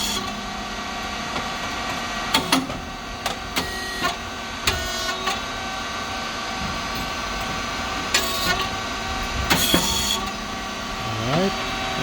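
A SYP5804T rice cake machine with a 3-phase motor, pump and constantly running fan hums steadily, with repeated clacks and sharp hissing bursts at intervals over the drone.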